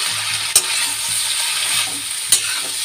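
Bitter gourd and onions fry in a pan with a constant, close hiss, and a spoon stirs and knocks against the pan twice.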